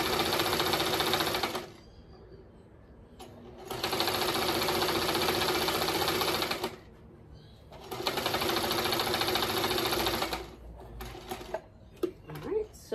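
Sewing machine stitching a quilt on a small table, running in three long bursts of steady rapid whirring with short pauses between them, close and loud, with faint handling noises at the end.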